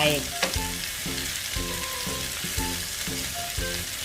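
Bitter melon and egg stir-fried in a hot pan, with steady loud sizzling and a regular rhythm of spatula scrapes and tossing strokes about every half second, close up.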